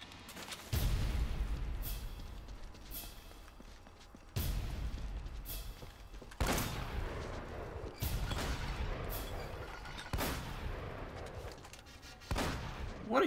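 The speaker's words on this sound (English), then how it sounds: "What are you shooting at?" Uncharted video game gunfire: about six loud, sharp shots spaced a couple of seconds apart, each ringing out and fading before the next.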